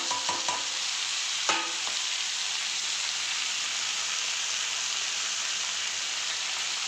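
Washed, chopped beans tipped into a hot pan and stirred, giving a brief clatter of pieces landing and scraping stirs over a steady broadband frying sizzle, moderately close with no voices.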